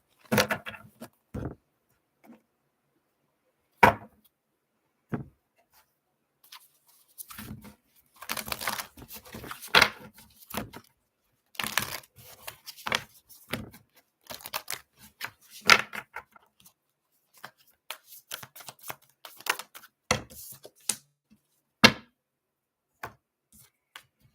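Crisp, irregular flicking and snapping of tarot cards being shuffled, in quick bursts with brief pauses, close up and without talk.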